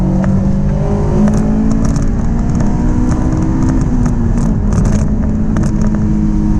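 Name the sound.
2005 Honda S2000 accelerating to pass another car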